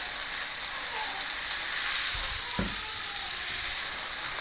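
Onion and garlic sizzle in a hot pan, a continuous loud hiss with a brief low thud partway through.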